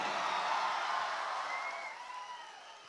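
Audience applause for a singer fills the room, a dense, steady wash of clapping that gradually fades a little toward the end, with no talk over it.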